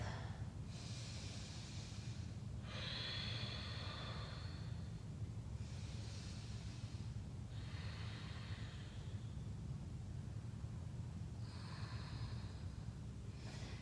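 Slow, deep breathing during a beginners yoga class, several soft airy breaths a couple of seconds apart, recorded close over a steady low hum and heard alone without talk.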